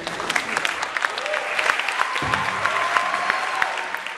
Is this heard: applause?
yes